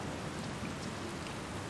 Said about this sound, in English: It's a good thing I never get bored of rain, huh?